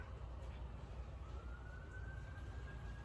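A faint ambulance siren wails far off, its tone rising slowly over a dull background rumble.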